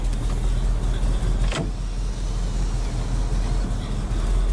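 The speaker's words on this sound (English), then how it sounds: "Now we'll go ahead and roll all the windows down." Power windows on a 1973 Ford Mustang Convertible whir briefly as they roll down, a short electric motor sweep over a steady low engine idle hum.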